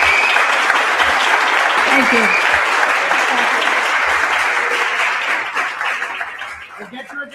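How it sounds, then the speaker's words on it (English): A conference audience gives a sustained round of applause, many hands clapping steadily and fairly loud before thinning out toward the end, while a speaker briefly talks over it. "A big round of applause."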